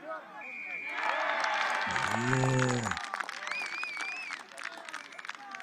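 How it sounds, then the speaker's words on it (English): Supporters of St John's Hamilton, travelled down from the Waikato, cheer and shout at a schoolboy rugby match against Feilding High School, a loud crowd roar filling the clip with a brief low horn-like blast in the middle and a voice over it. "he's a good crowd that's travelled down from the Waikato with St. John's. We could hear them"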